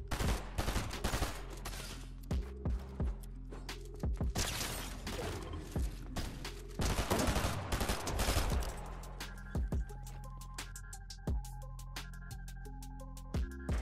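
Rapid gunfire rattles through a Fortnite fight, including a shotgun. Dense, loud volleys come first, then thin out into sharp, evenly spaced single shots with mechanical reload clicks.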